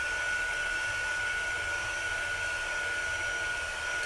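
A heat dryer blows steadily to dry stamped ink, a constant close whirring hiss with a thin high whine and no pauses.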